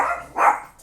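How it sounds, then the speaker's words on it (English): A dog barks indoors, two short muffled barks from nearby. "my dog started barking inside"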